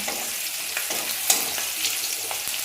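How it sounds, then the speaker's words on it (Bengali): Sliced kakrol (spiny gourd) fries in hot oil in a pan, giving a continuous dense sizzle with occasional soft stirring knocks and scrapes, close and steady, with no talking. "এই যে দেখো কাঁকড়েল ভাজা আমার হচ্ছে, সুন্দর করেই হচ্ছে।"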